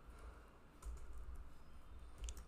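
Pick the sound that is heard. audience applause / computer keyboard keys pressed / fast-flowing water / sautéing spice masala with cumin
computer keyboard keys pressed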